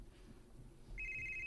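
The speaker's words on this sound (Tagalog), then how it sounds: "Kisa mo may tawag." A phone starts ringing with an incoming call about a second in, a steady, electronic, high-pitched tone over a quiet background.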